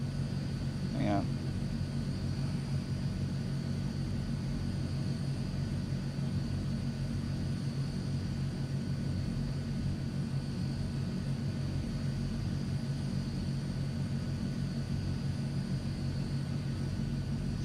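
A Transall C160 turboprop in Microsoft Flight Simulator runs at takeoff power, a steady loud propeller drone and rumble that holds evenly throughout, with a brief faint chirp near the start.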